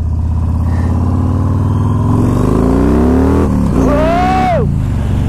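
A Yamaha Raider 1900cc motorcycle engine idles loudly up close, then revs up in a long rising pull that peaks and drops back, steady and powerful with no one talking.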